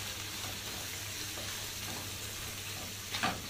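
Spices frying in hot oil in a pan at the start of cooking chicken and pasta, giving a steady close sizzle throughout with a brief louder crackle near the end and no talk.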